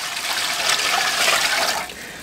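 Water from a tap pours into a cooking pot being readied as a steamer for a whole green tamal baked in a ring mold, a steady rushing splash that eases off near the end.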